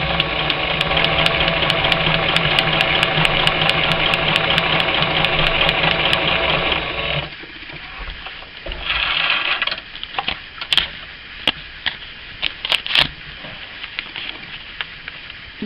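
Sewing machine stitching a seam in fabric at small stitch length: a steady, loud mechanical whir runs continuously for about seven seconds, then stops, leaving scattered clicks and handling noises.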